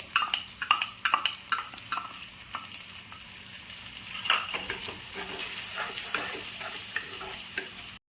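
Garlic paste, turmeric, salt, cumin and onion paste sizzle steadily in hot oil for an egg curry, with a spoon scraping and stirring the pan in short bursts, close up and without talk.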